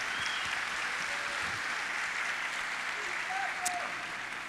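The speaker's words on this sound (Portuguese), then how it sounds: "Vamos aplaudir a palavra poderosa do Senhor." Church congregation applauding during a Portuguese-language worship service, a steady dense wash of clapping filling the room at moderate distance, faint background voices beneath.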